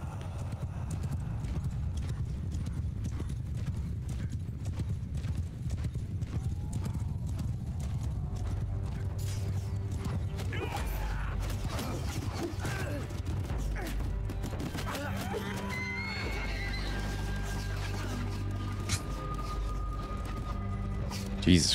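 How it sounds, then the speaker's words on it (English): Horses on a Mount & Blade II: Bannerlord battlefield: steady, dense hoofbeats clattering throughout, with occasional whinnies and faint battle clashes. Someone talks now and then over them. "Now we just need to capture all the horses."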